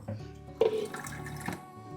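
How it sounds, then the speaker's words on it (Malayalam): Water poured from a mixer jar into a halwa mixture lands in a short, soft splashing pour lasting about a second, near and fairly quiet, with no talk. "വെള്ളം ഒഴിക്കുക. കൂടുതൽ വെള്ളം ഇരുന്നോട്ടെ കേട്ടോ."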